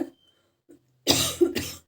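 Two strong, close coughs in quick succession, the first longer and rougher, following a brief faint sound and near silence.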